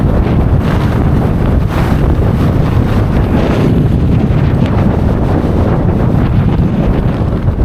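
Strong, steady wind roars across the microphone on an exposed fell ridge along the Pennine Way near Cross Fell, a loud continuous buffeting rush with no talk.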